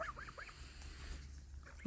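Geese on a farm honking in a few quick nasal calls close by, then a brief pause and another short honk near the end, over a low background rumble.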